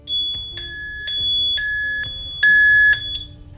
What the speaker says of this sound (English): someone tries running off with your bike, an alarm will sound